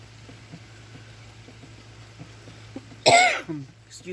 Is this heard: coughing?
yes